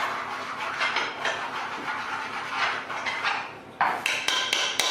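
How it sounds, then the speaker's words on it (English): A plastic spoon mixes food in a metal pan, giving a steady run of scraping strokes that end in several sharp knocks against the pan, close and fairly loud, with no voice. "I'm using a plastic spoon on a metal pan"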